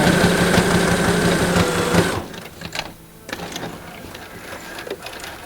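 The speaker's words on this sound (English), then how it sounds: "Do our bar tack here on the other side." Sewing machine stitching a bar tack on a small fabric earbud case, a loud, fast, steady whirring run that cuts off abruptly, followed by quieter handling clicks and rustling.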